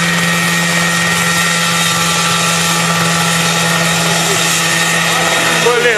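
A homemade helicopter powered by a lawn mower engine drones loudly and steadily at close range, its engine and rotor making an unbroken buzzing roar throughout.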